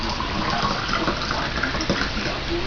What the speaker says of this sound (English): I'm going to pour this into our canning jars as well.